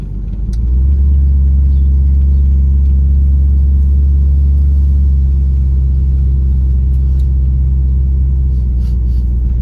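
A 1973 Ford Thunderbird with a 429 cubic-inch V8 rumbles at a loud, steady idle after starting up, a deep continuous engine drone close by with no talking.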